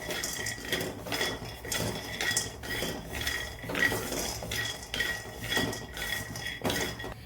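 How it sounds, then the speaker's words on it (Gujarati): Peanuts dry-roast in a pan for a masala capsicum sabji, with a steady rhythmic scraping and rattling as they are stirred, quiet and close, with no voices. "તો પહેલાં આપણે માંડવીના દાણાને શેકી લઈશું।"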